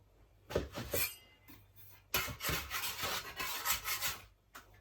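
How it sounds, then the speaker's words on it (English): Cooking oil hisses from a spray can into a bowl for white round bread dough in two bursts, a short spritz and then a longer sustained spray, close and fairly loud. "So we're gonna spray our bowl with the oil."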